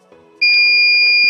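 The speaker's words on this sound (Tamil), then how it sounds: "அந்த கரெக்டாக அந்த பின் லெவலுக்கு ரீச் ஆனோடனே வந்து நம்மளுக்கு பீப் சவுண்ட் கேட்குது." A homemade water level alarm gives a steady, piercing electronic beep, switching on after a brief quiet moment as water reaches the sensor pin, holding continuously at a high pitch, loud and close.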